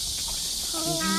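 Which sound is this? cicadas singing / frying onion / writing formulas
cicadas singing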